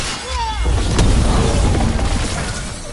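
Loud mortar explosions thunder through a Dragon Age: The Veilguard battle, a dense, rumbling barrage of booms and crashes that fills the whole stretch with little pause.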